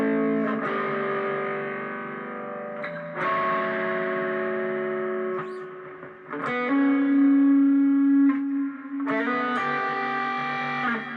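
Electric guitar playing the first chorus part of a song, distorted sustained chords in bell-like swells with reverb and echo, a few ringing phrases in sequence, alone without speech.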